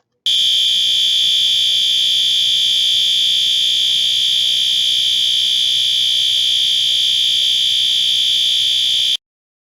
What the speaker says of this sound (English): An evacuation alarm, the continuous alarm, sounds like this.